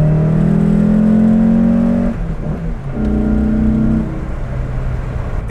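Porsche turbo engine, a 993 Turbo S or 964 Turbo, revving loudly and close up in two strong sustained pulls with a brief dip between them, no talk.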